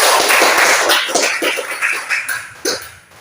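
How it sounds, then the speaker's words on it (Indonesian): Hands clapping together in a junior high school classroom during a religious education lesson, a brief burst of applause from the pupils that thins out into a few scattered, separate claps. "Tepuk tangan untuk kita semua dulu kan?"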